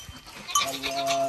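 A single large male goat bleats nearby, a short wavering cry rising out of faint background noise.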